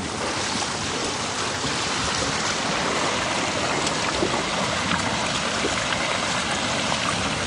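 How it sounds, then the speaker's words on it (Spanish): Strong floodwater surges through a ravine in the Rincón de Liguera area, a dense, steady roar of rushing water that stays loud and constant throughout, with no speech over it. "Se pone bastante fuerte el agua"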